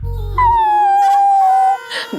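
A dog at home lets out one long, loud, sustained howl that glides slowly downward in pitch, close and clear, followed by a brief whimpering tail.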